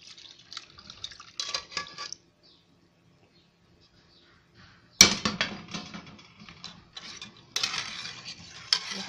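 Homemade yogurt milk pours and splashes through a strainer in intermittent bursts, with a quiet pause in the middle before louder pouring and dripping resumes close by.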